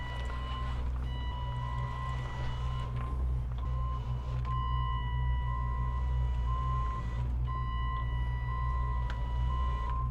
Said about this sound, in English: I'm going to turn on my motor mover by pressing on this one